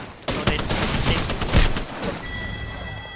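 Sniper rifle fire from a squad firefight in the video game Apex Legends: loud, sharp cracks and bursts crowd together over a dense, noisy game mix, then fade into a quieter hum with a thin high whine.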